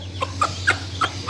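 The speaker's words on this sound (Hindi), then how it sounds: "ये मुर्गी बुला रही है उनको, ये मुर्गी सा उनको आवाज़ लगा रही है" A hen calls her chicks with four short, evenly spaced clucks over a low steady background hum, close and moderately loud with no talking.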